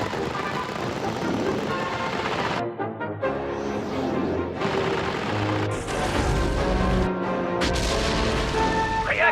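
A loud animated explosion tears off a spaceship's left wing, a heavy booming roar with rumbling blasts and crackling debris that fills the whole stretch, with dramatic music underneath and no talk.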